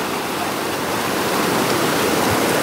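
Floodwater of the Seuti river in Dharan rushes steadily in a loud, continuous broadband roar, close and unbroken throughout with no voices.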